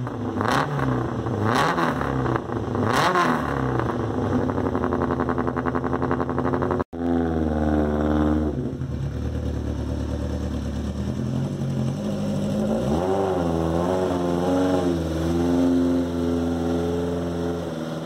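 A Fiat Ritmo rally car replica, modeled on the 1980 Monte Carlo rally car, revs its engine repeatedly, climbing in sharp rising sweeps toward high rpm and dropping back. The loud, raspy engine note is heard close and continuous, with no talking.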